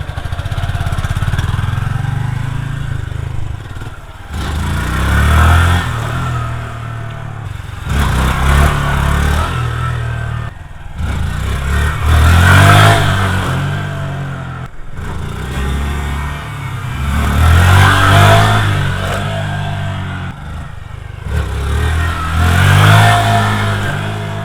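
A Honda Grom motorcycle engine revs in repeated bursts of acceleration as the rider tries wheelies, each throttle blip rising and falling close by, with no clutch installed and no talking.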